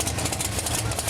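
A drag racing car with a 706-cubic-inch Fulton engine idles in a steady, low rumble with a buzzy mid-range drone, close and continuous, at a Pro Mod heads-up door slammer event at Mooresville Dragway.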